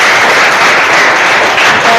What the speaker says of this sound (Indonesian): beri tepuk tangan juga dong dengan Oscar.